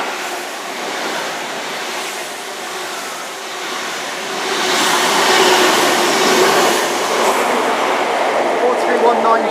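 Two Class 43 HST power cars run along the sea wall at Dawlish in stormy weather, amid a steady, loud roar of surf and wind noise that swells midway as the train passes close by.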